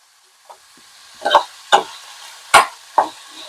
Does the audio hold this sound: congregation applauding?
no